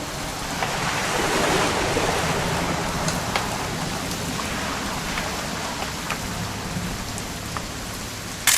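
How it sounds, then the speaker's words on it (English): Steady rain in the video game What Remains of Edith Finch pours down as a dense, hissing wash, with scattered louder drops pattering on a surface throughout. "It's gonna rain the whole weekend,"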